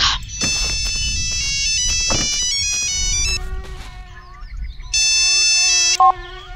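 Phone ringtone in a Finnish car-building game, a bright melodic electronic tune that plays in bursts, pauses, then resumes with a sustained tone and a short beep near the end, heard alone.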